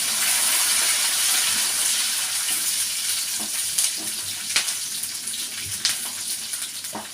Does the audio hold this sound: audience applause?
no